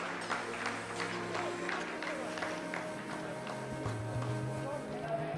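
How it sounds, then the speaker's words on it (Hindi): ISRO scientists in a mission control room clap after the lander's descent phase completes, a muffled, moderately distant patter of applause heard beneath a steady hum and a commentator talking over it. "आप इस तालियों के गड़गड़ाहट को सुन सकते हैं"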